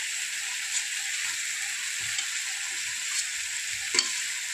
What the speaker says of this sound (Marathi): आता टाकत आहोत आपण हिरवी मिरची ठेचा